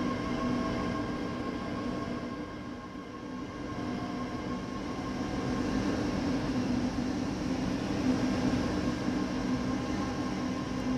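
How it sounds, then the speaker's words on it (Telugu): A passenger train in Train Sim World 4 pulls away after picking up passengers, giving a steady, continuous low rumble with a sustained hum throughout, moderately loud and alone with no talk. "మొత్తాన్ని మన ట్రైన్ అయితే బయలుదేరిపోతుంది ప్యాసింజర్స్ని పికప్ చేసుకొని"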